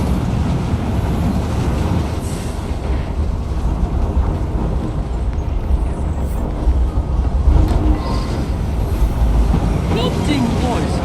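A noisy train in the Assassin's Creed Syndicate video game gives a steady, dense rumble and rattle that runs unbroken through the whole stretch, with a voice faintly over it.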